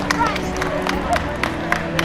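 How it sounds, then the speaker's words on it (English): Audience applause at a convention cosplay show, scattered clapping and crowd noise under lively hubbub and background voices, moderately close. "Big round of applause for Rachel."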